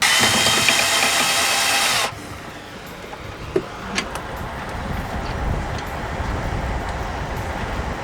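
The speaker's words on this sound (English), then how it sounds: "I've already started removing the washers" Power tool whirring on autopilot screws aboard a sailboat, a loud continuous whine for about two seconds that stops abruptly, followed by quieter clinks as washers are removed, no talking.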